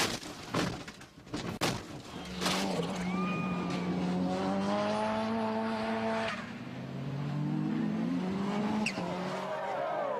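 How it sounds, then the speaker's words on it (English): MG Metro 6R4 rallycross car racing on a British rallycross track and getting airborne, with clattering impacts at first, then a loud rising engine note that drops and climbs again through the gears, alone without talk. "British Rallycross cars are twice as powerful and crash just as spectacularly"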